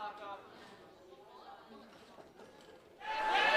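Crowd at a women's Jungle Gym obstacle final cheers on a climber, a low murmur of voices swelling into a louder roar near the end.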